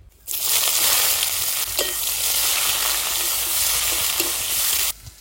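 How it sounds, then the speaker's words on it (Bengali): Chopped onions and slit green chillies fry with bay leaf and cumin in mustard oil, giving a steady, close, continuous sizzle that runs for several seconds before stopping abruptly; no one speaks. "এবার একটু ভেজে নেব"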